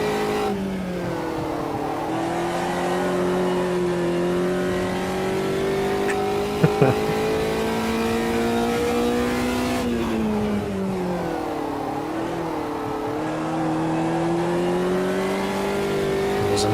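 An Indy race car in Automobilista 2 drones along at high revs, its engine pitch rising and dipping through gear changes and corners, with a brief thump midway and a steady, close, continuous tone.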